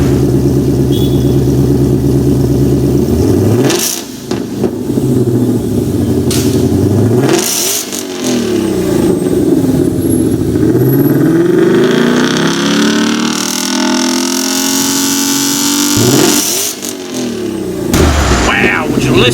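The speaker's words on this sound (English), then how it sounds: "let's go ahead and fire up this 1989 Ford F250 and see if we've created more horsepower" A 1989 Ford F250 truck engine rumbling loudly at close range, revved hard several times with rising and falling roars between deeper idle stretches.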